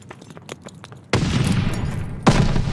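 Gunfire in Call of Duty Vanguard ranked multiplayer: a few scattered shots, then a sudden loud, sustained barrage of heavy firing that swells again near the end.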